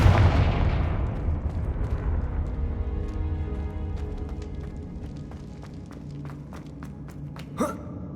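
Confringo spell blast in the video game Hogwarts Legacy: a loud, booming explosion at the start that rumbles and decays over several seconds, followed by scattered crackling debris and a brief sharp burst near the end.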